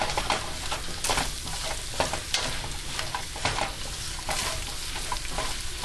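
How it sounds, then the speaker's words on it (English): Garlic sizzles steadily in a pan with browned ground meat as a spoon stirs and scrapes, loud continuous frying close by with rhythmic scraping strokes and no talk. "Here goes our garlic."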